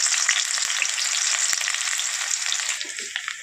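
Onions and dried red chillies frying in hot oil in a pan make a loud, steady sizzle with fine crackles throughout, easing slightly near the end.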